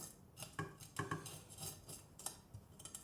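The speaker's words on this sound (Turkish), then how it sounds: "O zaten pulları çıkartıyor görüyorsunuz bakın." A knife scrapes scales off a fish, producing quiet, close, irregular metallic scratches and clicks in short bursts, with no talking.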